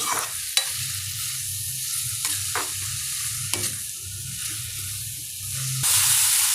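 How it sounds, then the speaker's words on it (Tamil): Onions and tomatoes sautéing in a pan, a steady close sizzle with a few scraping stirs and clinks, no talking. "நல்லா வதக்கிக்கோங்க."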